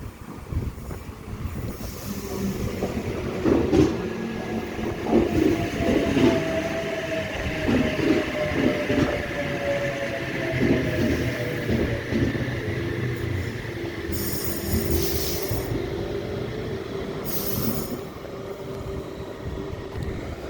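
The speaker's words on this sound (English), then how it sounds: "H46 departing platform number 2." The H46 passenger train set at Scarborough station, platform 2, on a Port Kembla service, rumbles past steadily for about twenty seconds with rolling wheel noise, rattling clatter and a long motor whine, loud and close with no talking.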